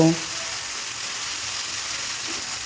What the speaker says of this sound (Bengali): এখন এখানে আমি চিকেন দিয়ে দেব দিয়ে দিচ্ছি চিকেন চিকেন দিয়ে নাড়াচাড়া করে কিছুক্ষণ রান্না করব